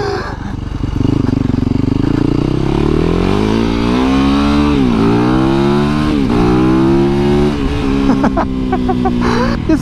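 A dual sport motorcycle accelerates hard while being ridden, its engine note climbing through gear changes loud and close, with wind rush and some shouting from the rider.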